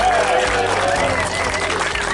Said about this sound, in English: I want the crowd to cheer loudly if they agree with the following statement